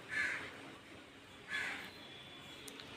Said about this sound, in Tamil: காகம் கத்தும்.